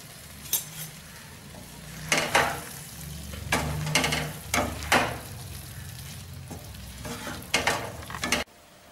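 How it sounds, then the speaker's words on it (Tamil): A spoon stirs cooked rice into a sizzling tomato mixture in a pan, with repeated scraping strokes and knocks against the pan over a soft, steady frying hiss. "இப்போ சாதத்தை போட்டு நம்ம கிண்ட போகிறோம்"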